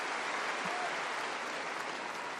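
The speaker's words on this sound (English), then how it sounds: "Big cheer for Venus Williams" At the Australian Open, a tennis crowd applauds and cheers for Venus Williams in a steady, even wash of clapping that fills the arena without a break.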